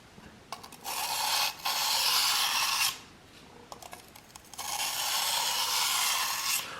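A Crimson Croc single-bevel knife is rubbed across an abrasive sharpening stone in steady, close rasping strokes, several long passes separated by brief pauses, with no talking.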